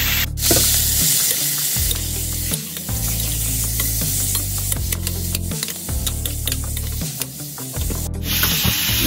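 Beef shank with garlic and ginger sizzling in a hot wok, loud continuous frying hiss broken by scraping stirs of a spatula at irregular intervals.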